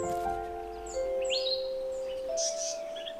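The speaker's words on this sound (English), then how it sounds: "African paradise flycatchers are usually noisy birds." A pair of African paradise flycatchers call in agitation, giving a run of sharp, clear chirps and whistled notes close by, alone with no voices.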